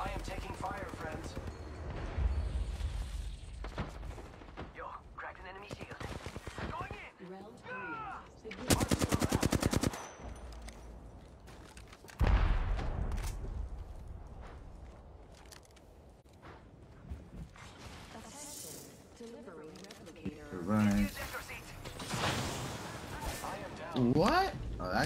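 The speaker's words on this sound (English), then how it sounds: "I am taking fire, friends." Gunfire in the video game Apex Legends comes as loud bursts of rapid automatic fire and single shots, with a player talking in between.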